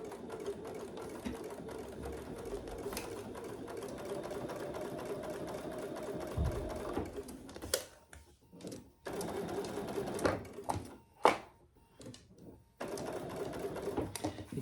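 A home sewing machine fitted with a narrow presser foot stitches a clutch bag: a steady close mechanical whir for several seconds, then stops and short bursts with pauses and faint clicks.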